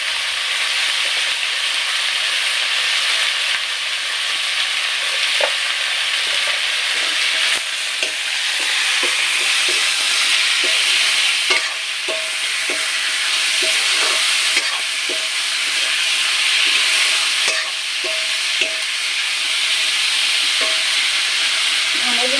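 Broiler chicken seasoned with salt and colouring fries loudly in a pan, with a steady bright sizzle and soft repeated scrapes of stirring throughout, close and continuous with no talking.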